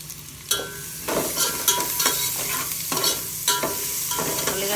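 Crushed garlic, curry leaves and turmeric fry in hot oil while a spoon stirs the pan, giving a crackling sizzle with repeated loud scraping strokes at a steady rhythm, close by and without speech.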